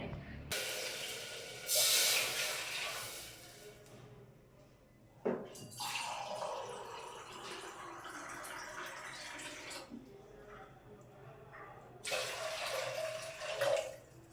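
Water pours from a tap into a pressure cooker for bisi bele bath in three separate bursts, a hissing gush each time with quiet gaps between.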